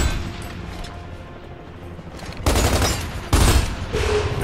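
Gunfire in the video game Gears of War 2, a rumbling battlefield backdrop broken by two loud, close bursts of shots late in the clip, no talking.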